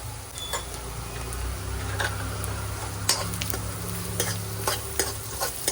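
Bottle gourd and spinach muthiya pieces sautéing in a pan for Gujarati dudhi palak muthiya, a steady close sizzle with occasional stirring scrapes and clicks throughout, no talking.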